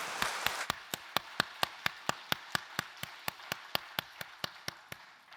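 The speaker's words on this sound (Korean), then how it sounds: "영광의 박수 올려드리겠습니다." A church congregation at a Sunday worship service in Seoul claps in unison, about twenty sharp, evenly spaced claps in a steady rhythm, moderately close and standing alone without speech.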